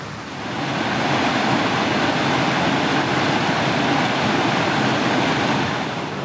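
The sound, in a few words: river water flowing at a meeting of two rivers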